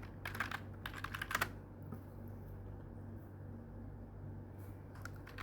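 Password typed on a computer keyboard at a Linux terminal: a quick burst of close keystrokes, a quiet pause over a low hum, then a second short run of taps.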